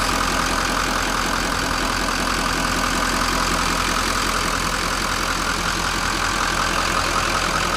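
A 6.6 liter V8 Duramax turbo diesel in a 2015 Chevrolet Silverado 2500HD idles steadily, a constant, close, even rumble with no talk over it.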